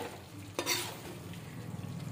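Mutton varattiyathu being stirred in a pan, a soft scrape of the spoon followed by a low steady sizzle, close and fairly quiet.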